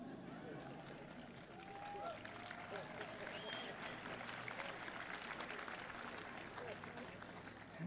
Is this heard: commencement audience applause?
yes